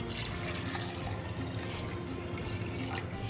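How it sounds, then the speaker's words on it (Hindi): Water pours steadily into a cooking pot of lentils being prepared for beef haleem, a continuous rushing splash at an even level from start to finish, with no voices. "इसके अंदर मैं पहले 1 लीटर पानी डालूंगी"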